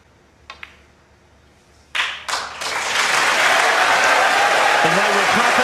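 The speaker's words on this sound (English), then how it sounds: "And they were clapping before the blue went in" A snooker crowd at the Champion of Champions 2022 final breaks into applause. After a couple of isolated claps it swells into loud, sustained clapping that fills the hall.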